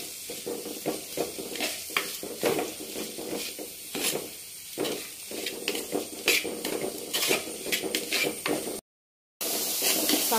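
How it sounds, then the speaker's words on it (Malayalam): Sliced onions sautéing in hot oil for a Kerala-style prawn roast, with a steady close sizzle and repeated scraping stirs throughout, then a brief dropout near the end before the frying returns. "നമ്മളൊരു ലൈറ്റ് ബ്രൗൺ കളർ ആവുന്നിടം വരെ ഇത് ഈ എണ്ണ കിടന്ന് ഇത് വഴറ്റി എടുക്കണം."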